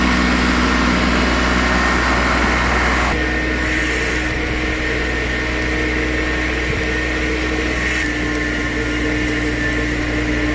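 An 18-horsepower tractor engine labors steadily while pulling a massive stump, a loud continuous low drone with little variation and no voices.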